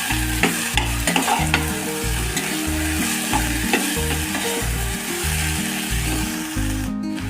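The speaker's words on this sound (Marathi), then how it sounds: "मटकी आणि बटाटा एकत्रित भाजून घ्यायचा मिनिटभर" Sprouted moth beans and potato pieces are stirred and roasted in a pan, giving a steady loud sizzle with repeated scraping strokes of a spoon in a regular rhythm.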